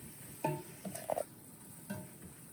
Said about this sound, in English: I'm going to keep stirring it while you're crushing it up.